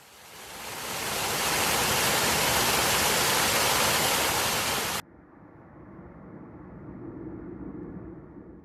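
A small waterfall on a hillside rushes as a loud, steady broadband roar, then drops abruptly to a duller, quieter, muffled wash.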